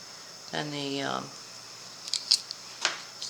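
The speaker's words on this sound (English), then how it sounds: "we're going to trim this on the lines and trim this up on the lines" Scissors trim paper along printed lines, with a short snipping run followed by a few sharp clicks of the blades, close and fairly quiet in a crafting setting.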